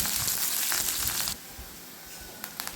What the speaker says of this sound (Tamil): சின்ன வெங்காயம்லாம் அதையும் சேர்த்து நல்லா வதக்கிக்கலாம்